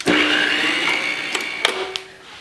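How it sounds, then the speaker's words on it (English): Electric blender whirring as it mixes muffin batter of flour and milk for streusel rhubarb muffins, a steady loud motor drone with a few brief clunks, no one talking. "And now I'm going to turn on that blender."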